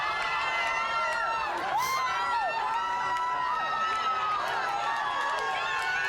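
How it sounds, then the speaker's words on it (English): Football crowd at a World Cup stadium keeps cheering and whooping after Panama's first ever World Cup goal against England, loud distant roar with shouts and whistles rising over it, a voice talking underneath. "They're still cheering it."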